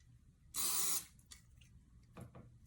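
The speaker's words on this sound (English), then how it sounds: "So let's spray our product on it." A single short, close burst of hair product sprayed from a can onto hair, a bright hiss lasting about half a second, followed by faint handling noises.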